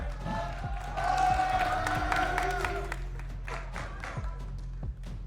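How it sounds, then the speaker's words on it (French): A crowd at a Smash Bros showmatch event applauds and cheers for a player, scattered claps and crowd noise at moderate level with taps and an announcer-like voice underneath. "OG mesdames, messieurs, on peut l'applaudir."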